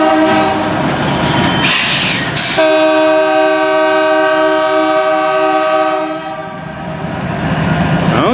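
BNSF locomotive 2686 running light with no train behind it, rolling past loudly and close with a deep engine drone, a short blast of its horn early on, and rail noise fading slightly near the end.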